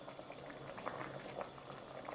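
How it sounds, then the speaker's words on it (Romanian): Rice pilaf with chicken and mushrooms boiling in a pot of water, a steady soft bubbling and popping at a close, quiet level, continuous throughout with no speech. "a început să fiarbă ca lumea și s-a și îngrășat un pic orezul"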